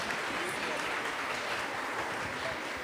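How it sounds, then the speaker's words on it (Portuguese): Applause fills a church during a Sunday Easter-season service, a dense, steady wash of many hands clapping at once, close and loud throughout without a break. "Palmas para ele."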